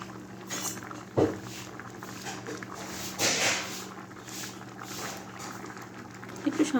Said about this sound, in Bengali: একটু আরও ভালো করে ফুটিয়ে নিই। আমার বেশ ভালো ফুটে যাচ্ছে।